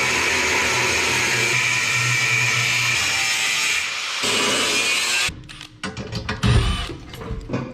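A saw cuts through a bicycle frame just behind the motor mount on an Evo Sportster hardtail, giving a steady, loud rasp for about five seconds. It then breaks into irregular scraping and knocking.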